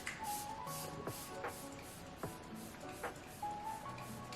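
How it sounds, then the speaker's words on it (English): A series of short, soft hissing spritzes from a bottle of Hourglass Veil Soft Focus makeup setting spray, repeated several times at a steady pace in a quiet room. "now I'm going to apply a setting spray"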